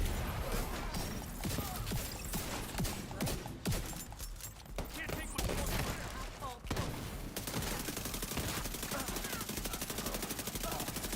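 SMG fire in the video game The Division 2 rattles in rapid bursts of automatic shots, loud and close, with bursts stopping briefly near the middle before resuming with steady chatter, alongside game effects and scattered other gunfire.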